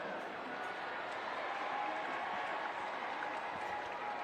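A soccer stadium crowd applauds during a substitution at a Tampa Bay Rowdies vs Louisville City FC match, a steady, dense wash of clapping throughout, with a commentator's voice partly under it.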